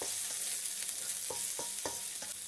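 Food sizzles steadily in a hot pan while a utensil scrapes and stirs through it in short, irregular strokes, frying shallot and pepper with black beans.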